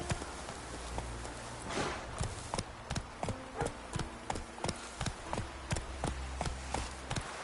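Roach, a horse in The Witcher 3, gallops with a steady run of clip-clop hoofbeats, close and distinct over a low game ambience with no voices.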